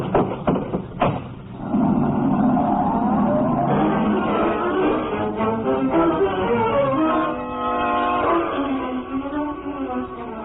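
Radio drama effect of a stolen car driving away: a door clunk, then an engine starting and revving as it pulls off, pitch climbing and falling through gear changes, loud and close.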